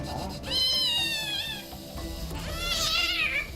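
A young cat in pain at a veterinary clinic, recovering from a leg fracture, lets out two long, drawn-out meows close by, with a faint low voice and handling noise underneath.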